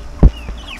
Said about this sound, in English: And look at the chickens